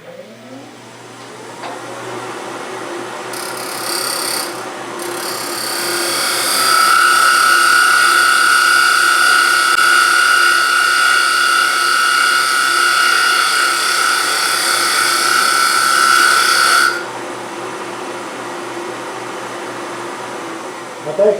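Wood lathe spinning steadily while a tenon is cut on a wooden box, a continuous whirring hum with a high, scraping tool whine for a long stretch before it drops away, with a voice talking underneath.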